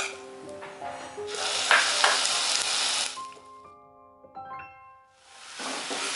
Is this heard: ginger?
yes